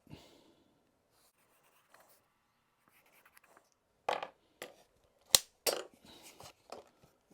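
Pencil tracing a line along a template on a wooden part of a model ship's stern, faint sparse scratches followed by several short, sharper strokes near the end, no talk.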